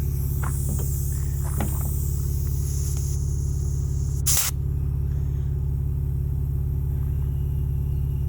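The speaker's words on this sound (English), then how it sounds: "See how fast this compressor is working here." A portable air compressor inflating the tires of a 2024 Ford Ranger Raptor runs as a loud, steady low-pitched drone throughout, with a brief sharp hiss of air near the middle.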